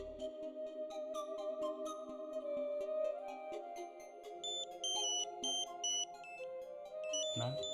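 An electronic telephone rings indoors in a TV drama, a repeating melodic ringtone pattern of bright beeping tones with a low background bed, ending with a louder burst.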